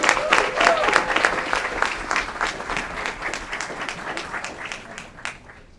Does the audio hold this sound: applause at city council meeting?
yes